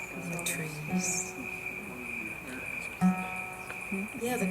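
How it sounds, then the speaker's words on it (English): Crickets chirp outdoors on a summer evening in a backyard, a steady high trill throughout, with faint murmured voices and small sounds nearby. "Aren't the crickets wonderful?"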